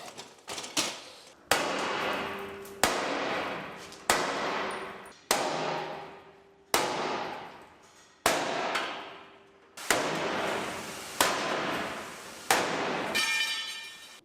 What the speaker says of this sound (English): We're hitting the gas tank up there.